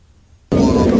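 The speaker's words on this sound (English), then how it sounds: "this is what the JDAMs sound like" A recorded JDAM bomb explosion begins with a sudden, very loud broadband blast halfway through after near silence, and the rumbling roar continues to the end.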